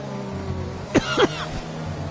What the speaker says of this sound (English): And a little bit of a cough there.